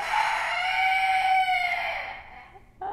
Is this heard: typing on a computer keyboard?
no